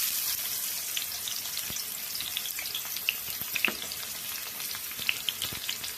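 Steady frying sizzle with scattered pops and crackles as chopped onions cook in hot oil, close up and continuous throughout.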